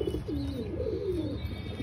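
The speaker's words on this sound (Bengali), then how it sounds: "এই একটা পায়রা নতুন আছে" A pigeon coos in a series of low, rolling calls at a rooftop loft, moderately close and steady, with no talking over it.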